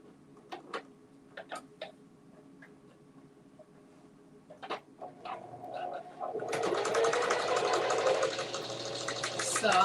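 Quiet clicks and ticks of a sewing machine being set up give way to a steady, buzzing run of stitching as it sews a fabric basket, rising louder over the last few seconds.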